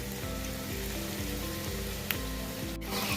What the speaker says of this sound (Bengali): এক এক করে আমি কাটলেটগুলো ভাজতে দিয়ে দেব।